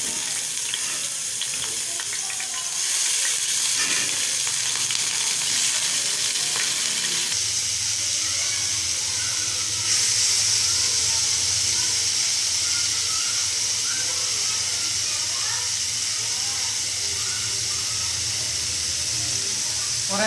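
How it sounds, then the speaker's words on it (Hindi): Marinated chicken pieces frying in hot oil, a steady bright sizzle and hiss that swells as the chicken goes in and then holds constant and fairly close. "ऑयल गर्म हो गया, अब ये जो हमने चिकन मैरिनेट किया था ये आहिस्ता आहिस्ता इसके अंदर प्लेस कर देंगे।"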